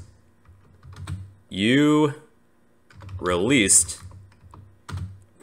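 Typing on a computer keyboard while testing a Java KeyListener program, with short clusters of key clicks scattered between spoken phrases from a nearby voice.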